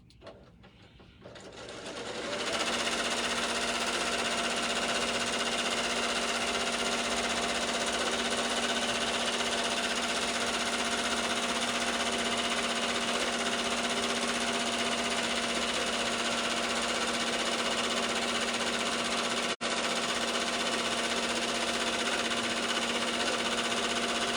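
A longarm quilting machine on a Grace Cutie frame stitches a row across a queen-size quilt, spinning up after a brief start and running as a loud, steady motor whir with rapid needle chatter for over twenty seconds.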